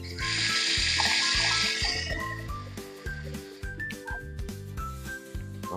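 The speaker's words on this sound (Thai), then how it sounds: "ผมเพิ่มน้ำลงไปนะครับ" Water pours into a pot of Thai spicy pork leg soup, a bright rushing splash for about two seconds that then stops, leaving a low, steady rhythmic background.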